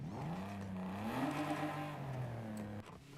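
A stock car engine in Forza Horizon 5 revs steadily, its pitch climbing and then easing back down, loud and close with no other sounds.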